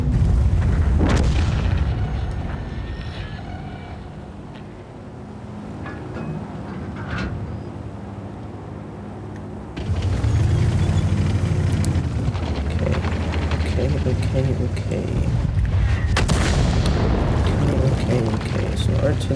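Artillery fire in World of Tanks lands as scattered deep booms, one near the start and more around the middle and end, over a constant rumbling engine bed.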